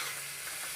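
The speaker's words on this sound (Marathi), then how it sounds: "थोडं हलवून घेऊ, म्हणजे गुळाचा आणि खोबऱ्याचा ओलावा एक होतो" Jaggery and freshly grated coconut being stirred in a kadhai over a low flame for a modak filling: a soft, steady sizzling hiss with faint scraping, close and alone, with no talking.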